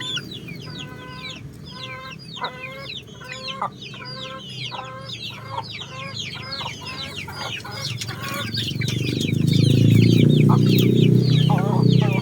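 Basilan or Jolohano chickens cluck in a rapid, repeated chorus at close range, with a fuller lower rumble of farm noise swelling near the end.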